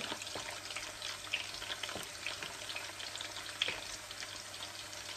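Squid for adobo fries in a pan with a steady, soft crackling sizzle, punctuated by a few light stirring taps and scrapes, with no voices over it.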